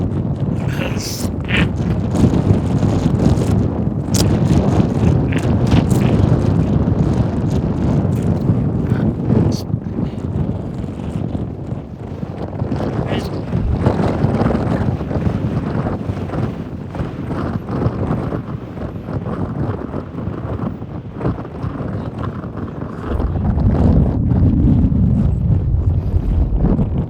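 Strong wind buffets the microphone in a constant loud rumble and roar near a river in the Estes Park area of Rocky Mountain National Park, with occasional voices faintly under it.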